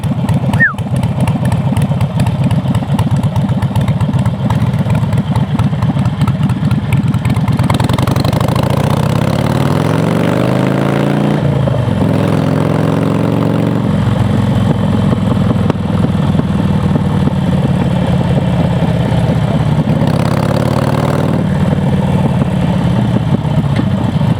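A Harley-Davidson Forty-Eight motorcycle engine idles loudly and close, with a throbbing low rumble; the revs rise and fall a few times before settling back to a steady idle.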